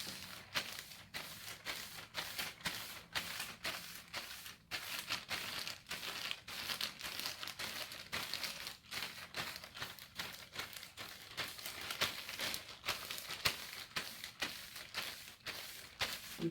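Steady rhythmic crinkling and rustling of a plastic bag rubbing over short hair during a 360 waves brushing session, repeated strokes at an even pace, close and fairly quiet, with no voices.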